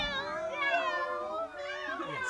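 Someone mimics a little cat with their voice, giving a drawn-out, wavering meow that rises and falls, then a second shorter mew. The voice is close and clear, in a live performance setting.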